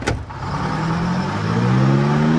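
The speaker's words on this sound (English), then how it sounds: "I can't hear you over the sound of the truck's engines" Truck engines run in a 1950s crime-city video game scene, a steady loud mid-pitched drone with a rising rev, starting after a sharp brief transient.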